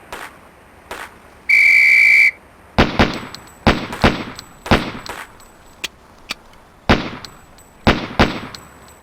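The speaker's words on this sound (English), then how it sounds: "On the whistle." A sharp, loud whistle blast signals the start of a timed pistol shooting drill, followed by a rapid series of loud, close gunshots with metallic clangs from struck steel targets.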